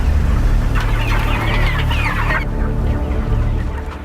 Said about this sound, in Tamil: இந்த கோழிகளை பார்த்தீர்களா